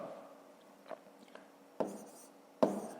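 A pen writes numbers on paper in a school math notebook, a few soft scratchy strokes with two sharper taps or pen placements, close and quiet.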